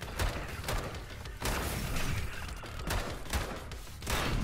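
Pistol fire in the game Bunker Punks comes as a series of sharp, fairly quiet shots spaced irregularly, about every half second to second, with mechanical clatter between them.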